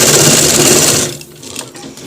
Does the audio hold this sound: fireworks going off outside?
no